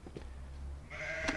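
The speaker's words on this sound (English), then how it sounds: "it's time to feed the sheep." Sheep bleating at feeding time on a farm, one loud close bleat near the end after a quieter one, over low rumbling background noise.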